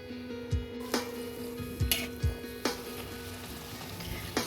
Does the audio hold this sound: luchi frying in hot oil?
yes